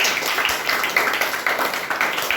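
A classroom group gives a short round of clapping for a student, with steady, moderately loud hand claps from many people and no talk over it.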